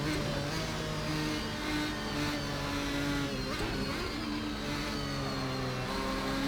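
Ferrari 550 GTS GT1 race car in a racing video game lapping the Nordschleife, its engine droning steadily at high revs with gentle shifts in pitch as the throttle lifts and reapplies, loud and continuous throughout.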